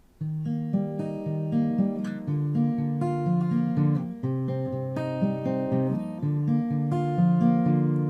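Acoustic guitar picked fingerstyle, rolling through a repeating chord pattern with steady, even plucked notes, played up close with no talking.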